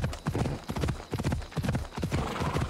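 A horse gallops in Assassin's Creed Odyssey, its hooves striking in a fast, steady clip-clop rhythm that is loud and close, with no talking.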